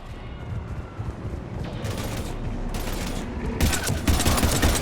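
Gunfire in a Mass Effect 3 firefight, a rumbling wash of distant automatic fire that thickens into loud, dense bursts of shooting near the end.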